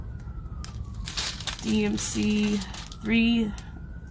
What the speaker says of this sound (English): oh gosh, of course an ambulance is gonna come